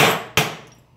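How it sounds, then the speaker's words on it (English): A metal dome struck with a hammer on a doming block, two sharp ringing blows close by, the second followed by a fading metallic decay. "So we'll continue hammering,"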